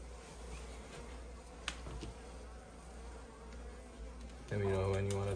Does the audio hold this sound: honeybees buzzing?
yes